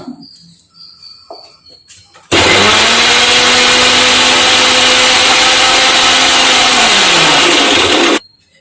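A kitchen mixer grinder whirs loudly and continuously for about six seconds as it grinds soaked ingredients into a paste for a natural hair-dye recipe, starting abruptly after quiet handling noises and then cutting off.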